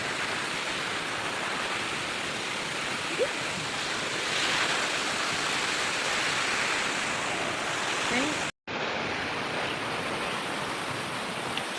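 Tausuban Falls pours as a steady, broad roar of rushing water that fills the whole stretch, with a brief dropout near the end.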